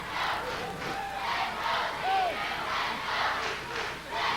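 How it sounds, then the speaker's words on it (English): Wrestling fans at a televised 1991 WCW Saturday Night match chant behind the challenger, a distant, rhythmic crowd chant pulsing in steady waves throughout. "he was distracted by the fans chanting"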